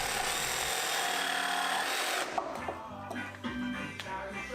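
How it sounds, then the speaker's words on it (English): Jigsaw cutting waste from a pine assembly table frame, a loud continuous buzzing cut that stops abruptly and gives way to several knocks and handling sounds. "I could then use the jigsaw to cut away the waste."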